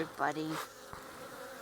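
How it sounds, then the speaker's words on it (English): Honey bees swarm around an opened hive during a frame inspection, a dense, steady buzzing hum that fills the whole clip, with a brief spoken comment at the start. "There's bees flying around everywhere."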